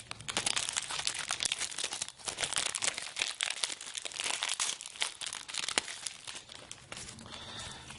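A Magic: The Gathering Rivals of Ixalan booster pack wrapper torn and crinkled open, a dense, continuous close-up crackling of foil plastic lasting several seconds.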